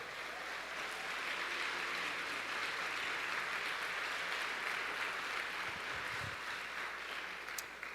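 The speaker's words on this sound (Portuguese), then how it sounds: "aplaudam ao Senhor." A church congregation applauds during a worship service, a steady, dense wash of clapping that carries on evenly for the whole stretch without any talk over it.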